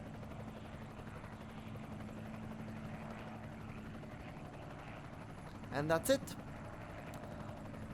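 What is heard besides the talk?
helicopter units in the video game Panzer Rush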